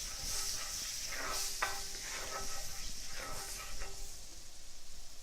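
Butter sizzles in a hot cast iron pan as it is swirled around, a soft steady hiss with faint scraping and stirring movements.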